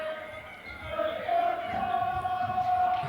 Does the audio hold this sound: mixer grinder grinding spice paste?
no